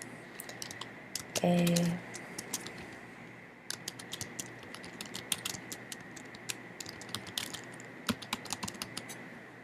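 Steady clicking of a computer keyboard as a Google Forms title is typed, a run of close keystrokes with irregular rhythm, with one brief spoken word near the start.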